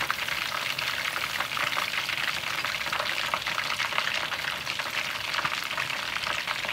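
Steady, dense sizzling and bubbling of gravy thickened with cornstarch fills the clip, like thick sauce simmering in a hot pan, constant and close.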